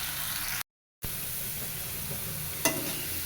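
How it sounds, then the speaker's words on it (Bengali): Vegetables sizzle steadily in hot oil close by, a constant frying hiss with a brief cutout and a small clink near the end. "সবজি ভেজে নেব"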